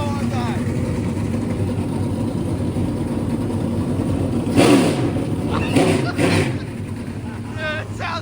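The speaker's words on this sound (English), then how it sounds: "Hit that throttle one time." A NASCAR race car engine idles with a loud, rough, continuous rumble, then blips its throttle twice in short revving surges amid background voices and crowd chatter.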